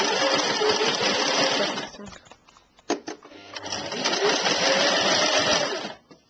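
An overlocker sewing machine stitching fabric for a caftan dress, whirring loudly in two long runs with a short pause between them, close by.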